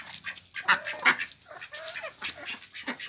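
Ducks quacking in an aviary that also holds rabbits and a white rooster, with several overlapping nasal calls at close range over a background of rustling and other bird noise.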